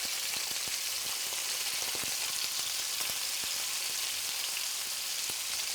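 A salmon fillet for teriyaki fries skin side down in a hot pan, giving a constant dense sizzle dotted with small crackling pops, close and even throughout with no talking.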